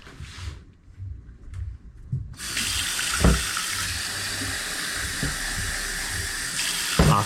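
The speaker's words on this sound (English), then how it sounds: "fill the pot with cold water and just mix it around." Cold water runs from a tap into a pot of rice, starting after a couple of seconds of quieter handling and then continuing as a steady, close hiss with small clunks.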